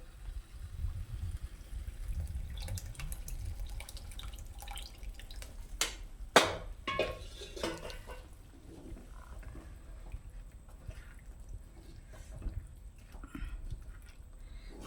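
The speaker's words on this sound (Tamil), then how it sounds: "இந்த புளி கரைச்சலை இதோட சேர்த்துடலாம்." Thick tamarind water, dissolved with a little salt, poured into a green chilli pickle, giving soft wet splashes and drips with a brief louder burst of liquid midway, close and fairly quiet, with no talking.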